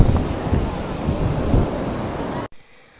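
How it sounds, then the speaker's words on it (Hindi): Ocean waves and morning wind at Chennai Marina Beach roar steadily with heavy wind buffeting against the microphone, loud and close, then cutting off abruptly near the end. "और ये देखिए कितनी बड़ी बड़ी लहरें उठ रही हैं सुबह के टाइम काफ़ी अच्छी हवा चल रही है"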